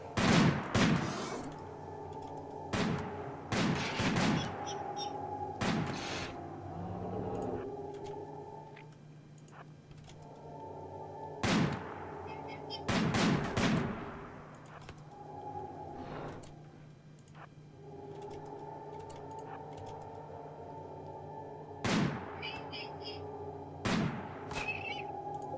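Sniper rifles firing in the video game RimWorld, with repeated sharp gunshot cracks scattered irregularly over a steady low musical background, some shots coming in quick pairs, with no talk.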